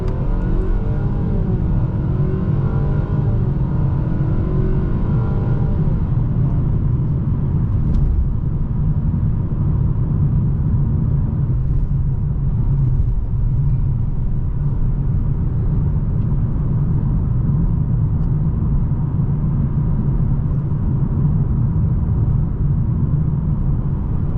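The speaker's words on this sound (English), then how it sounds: "let's give her some gas" A 2026 Nissan Sentra SR engine accelerates during a test drive, heard as a steady, loud rumbling drone with a rising whir that holds throughout under road noise, with no talking.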